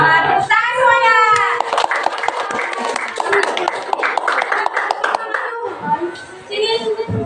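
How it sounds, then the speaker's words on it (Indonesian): Group of schoolchildren applauding in a classroom after a group presentation, dense clapping filling most of the clip, with children's voices at the start and end. "tepuk tangan semuanya"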